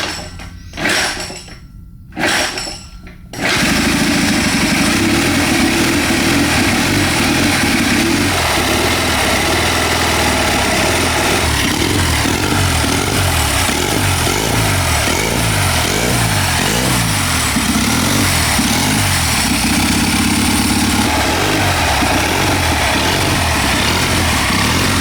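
A small turbocharged generator engine on a 4-speed mini bike cranks in a few short bursts, catches and settles into a loud, close, steady idle with a buzzing, slightly uneven throb that continues to the end.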